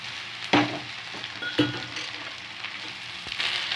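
Okra pieces and curry leaves sauté in hot oil in a pan, a steady broad sizzle with two sharper clicks of spoon against the pan near the start, no voices.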